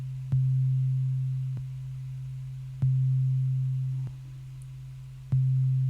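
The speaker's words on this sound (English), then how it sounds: "It's a sine wave pattern" A simple sine-wave synthesizer pattern in FL Studio plays a steady, pure low tone, restarting with a click about every 1.25 seconds and dipping slightly in level between notes.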